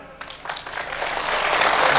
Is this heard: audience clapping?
yes